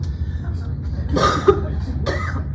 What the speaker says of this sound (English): first I'm gonna cough